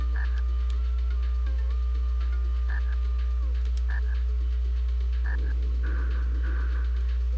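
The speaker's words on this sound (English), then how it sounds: "Another frog." Frog croaks from The Flintstones on SNES, several short bright chirping croaks spaced irregularly over a steady electronic game hum and music bed, with a brief noisy rustle near the end.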